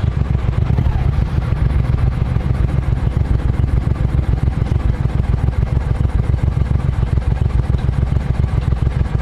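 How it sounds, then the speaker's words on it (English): A motorcycle engine fitted with a new exhaust runs steadily at a constant throttle, giving a loud, continuous low rumble with rapid clattering pulses throughout. "I think the new exhaust sounds all right."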